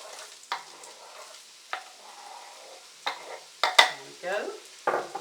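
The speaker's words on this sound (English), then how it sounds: "Put in about 2 tablespoons of olive oil, and then tip in the onions and the garlic." Onions and garlic hitting hot olive oil in a pot, with several bursts of sizzling and scraping stirs over a quiet background, close by; a voice speaks briefly.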